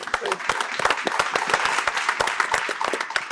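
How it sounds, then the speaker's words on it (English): An audience at a debate show breaks into a short round of applause, brisk overlapping claps heard steadily and fairly close throughout. "Can we get a round of applause for Joe's?"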